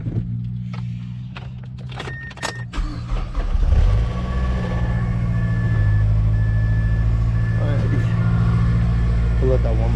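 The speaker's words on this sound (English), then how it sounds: "we're about to get the Mazda started up" A Mazda engine cranks with a few clunks, catches about four seconds in and settles into a steady, close rumbling idle, with a person talking over it.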